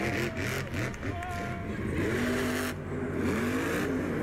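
A monster truck engine roars and revs at a Monster Jam event, its pitch rising and falling through several sweeping surges, loud and close over a busy background.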